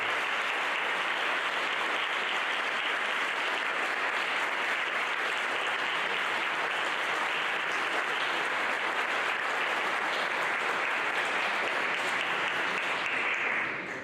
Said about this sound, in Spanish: A todos, un fuerte aplauso.